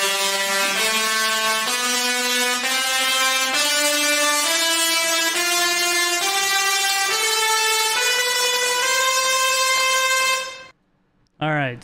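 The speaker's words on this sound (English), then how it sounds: "Do you see the Tesla coils right there?" Singing Tesla coils play electrical music, a loud buzzing, synth-like tone that steps upward through a series of sustained notes before cutting off abruptly near the end.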